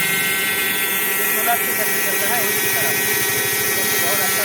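A 12V battery-powered water pump runs in a solar panel pump setup, pushing water out fast with a steady, close motor whine and buzzing hum under a voice talking.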